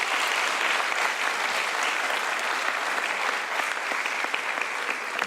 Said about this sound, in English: Can we give our speakers for this session a round of applause